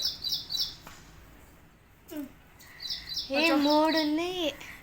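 A small bird chirps in quick high bursts near the start and again later, beside a home kitchen where gavvalu snacks are being made; a voice speaks briefly between the calls.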